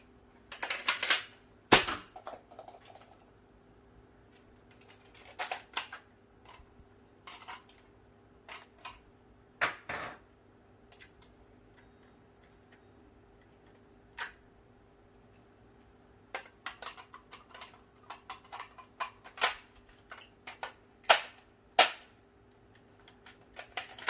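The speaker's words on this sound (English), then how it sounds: "So now let's go with 2 LED darts along to the shell." Foam LED darts pushed into the plastic shells of a Nerf N-Strike Elite Shellstrike DS-6 make a string of sharp, close plastic clicks and snaps in irregular bursts, with quiet gaps between them and no talking.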